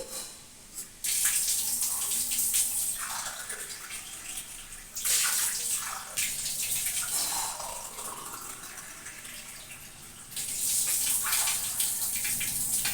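Water runs steadily from a tap into a vessel while measuring out three cups of water for tea, a rushing, filling flow in bursts with short pauses, close by and without talk.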